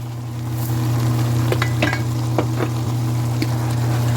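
Okra fries and sizzles in a pot with seasoning, a steady close crackle over a low hum, with occasional clinks of a spoon stirring against the pot.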